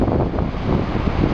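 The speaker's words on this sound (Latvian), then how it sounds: "Vējš ir no jūras." Steady wind blowing in off the sea, a continuous broadband rush buffeting the microphone close up for the whole moment with no speech.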